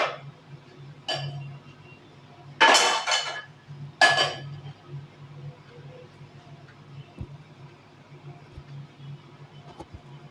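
A pot and metal utensils clank and clink as tea is set on a gas stove, a few sharp knocks and scrapes close by, then quiet with a low steady hum from the stove.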